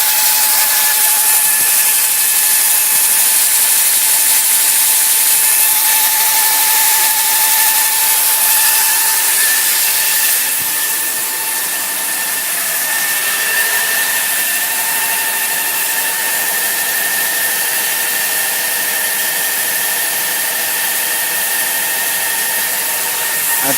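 Small steam turbine running during a test burn of a steam boiler, a continuous high whine and hiss at steady loud level throughout, with a slight dip in pitch partway through.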